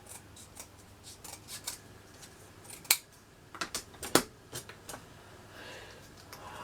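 Scissors snip through paper while trimming a craft piece for a vintage Christmas village, giving a few sharp, close cuts scattered among soft rustling handling noises.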